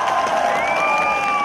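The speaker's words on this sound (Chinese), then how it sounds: "觉得她美，爱她喜欢她的，来点掌声" Festival crowd at a Hmong Miao chive flower festival in Guizhou, cheering and clapping together in a brief, loud burst with excited shouts above the applause.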